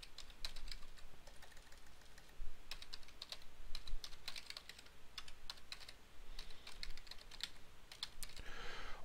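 Quick, light keystrokes on a computer keyboard as an email address is entered, irregular taps in short runs with small gaps, close and fairly quiet, no voices.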